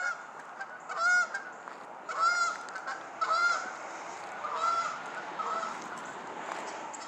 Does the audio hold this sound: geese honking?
yes